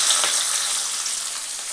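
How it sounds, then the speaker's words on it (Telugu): Onions frying in hot oil with mustard seeds and green chillies, a steady close sizzle that holds evenly throughout, with no voices. "ఉల్లిపాయలు వేసుకుంటున్నాను"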